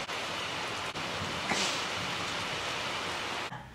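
Steady rain pours outdoors as a continuous broadband hiss, fairly loud and even, with a brief brighter splash partway through and no voices.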